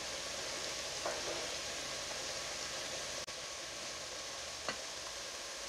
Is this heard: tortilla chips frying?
yes